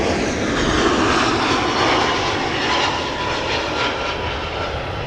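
Aer Lingus airliner in a special rugby team livery flying past at Amsterdam Schiphol, a loud, broad engine roar that holds steady and close before easing off slightly at the end.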